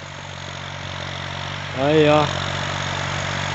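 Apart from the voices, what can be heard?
Valtra A 950R tractor engine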